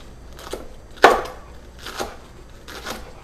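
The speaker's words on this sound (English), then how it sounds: "I'm gonna take now some pieces of Brussels sprout. I'm just gonna slice them up." A knife slices through raw Brussels sprouts on a board, four distinct crisp cuts spaced about half a second to a second apart, close and clear, the second one the sharpest.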